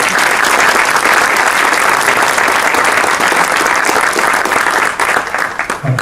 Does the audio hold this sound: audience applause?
yes